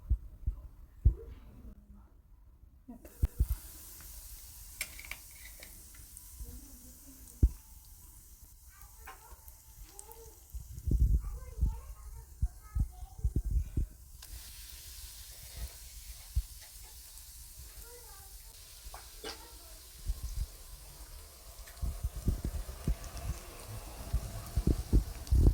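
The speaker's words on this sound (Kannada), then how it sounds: "ಬನ್ನಿ ಆಯಿಲಲ್ಲಿ ಫ್ರೈ ಮಾಡ್ಕೊಳ್ಳೋಣ" Breadcrumb-coated burger patty frying in a few tablespoons of oil in a hot pan, a quiet steady sizzle with scattered soft pops and clicks, briefly louder mid-way and near the end.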